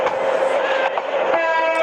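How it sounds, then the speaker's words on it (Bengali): A locomotive in the Train Simulator Bangladesh video game rumbles along steadily, its loud sustained horn-like tone carrying over continuous rail noise, close and without speech. "আমাদের এফএস ট্রেন আবারও বের হয়ে গেছে"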